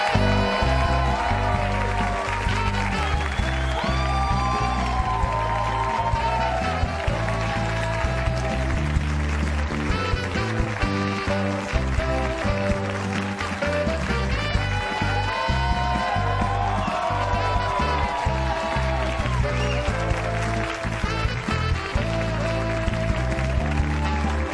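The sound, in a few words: audience applause with music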